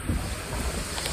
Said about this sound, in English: Holy moly, is it windy.